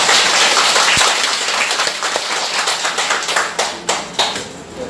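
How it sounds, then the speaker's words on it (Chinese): A group claps warmly together at a self-development seminar gathering, dense overlapping hand claps at first, thinning toward the end into scattered, distinct individual claps. "我们给自己一个热烈的掌声"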